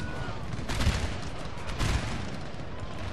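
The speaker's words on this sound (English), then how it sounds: "Can you men volley onto these artillery pieces briefly?" Musket volleys crackle in a Napoleon: Total War battle running the Darth Mod, two dense swells of massed rifle fire over a constant rumbling battlefield din.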